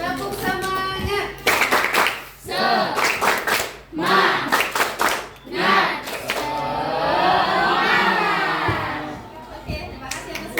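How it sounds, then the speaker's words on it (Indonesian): Students in a school counseling classroom perform a rhythmic group clap, sharp clusters of hand claps in patterned bursts with children's voices and chanting mixed in, ending in sustained crowd voices. "Tepuk semangat."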